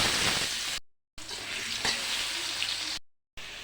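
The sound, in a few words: potatoes frying in oil in a pan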